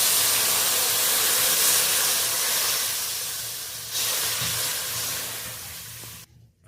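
Hot water poured into a hot pan of fried mango hisses and sizzles loudly and steadily, swelling once midway, then fading out at the end.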